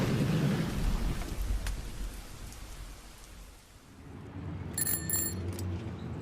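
Rain falls steadily on a rainy day while thunder rolls in deep, rumbling swells, loud at first and easing midway, with faint tonal notes rising near the end.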